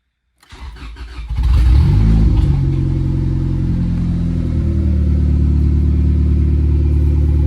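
A turbocharged Acura Integra GS-R engine fires up for the first time: a brief cranking, then a loud catch and a rev, settling into a steady, rough idle that runs close and loud.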